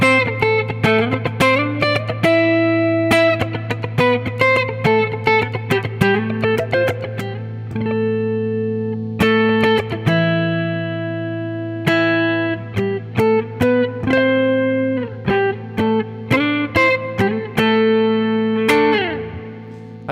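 Electric guitar played through a Quad Cortex effects processor in a mostly clean tone, with ringing chords and picked notes in a loose rhythm, sustained and fairly loud, with light chorus-like shimmer and no talking.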